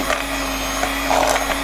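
Electric hand mixer whirring steadily while sponge red velvet cake batter is prepared, a continuous motor hum with slight fluctuations, fairly close and alone.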